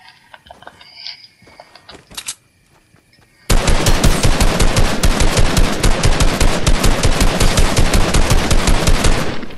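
Video game gunfire, a few scattered shots over quiet game ambience, then a sudden loud burst of rapid automatic fire that hammers on steadily for about six seconds.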